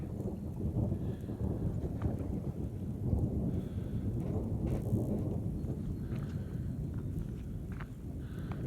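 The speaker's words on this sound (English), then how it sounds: "I can hear the thunder out that way." Distant thunder from an approaching afternoon storm rolls as a low, continuous rumble, with faint rain and some nearby movement, and no talking.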